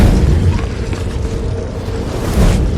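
Deep, rumbling booms of set charges exploding in Star Wars: The Old Republic roll continuously, loud and close, with a heavier blast swelling near the end.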